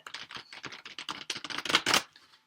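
Rapid riffling clicks of a large tarot card deck being shuffled, a dense crackling burst repeated in quick succession, close and fairly loud, ending in a short snap.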